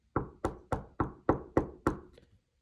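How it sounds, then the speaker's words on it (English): Seven sharp knocks fall in an even, steady rhythm, each a crisp close thud that decays quickly, followed by a faint trailing tap and then silence. "when he heard the knocking sound again"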